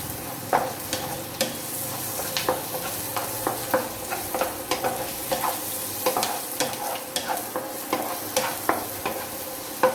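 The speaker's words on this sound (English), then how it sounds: "And give it a good stir. The onions are getting nice and soft, and the garlic has not yet burned" Onions and garlic fry in a pan with a steady soft sizzle while a utensil stirs them, giving repeated scraping clicks at an irregular, fairly quick rhythm; close and moderately quiet, with no talking.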